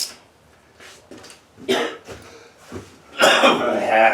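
Repeated coughing and throat clearing from a person with the flu in a garage workshop, several bursts of varying loudness with a harsher, longer fit near the end.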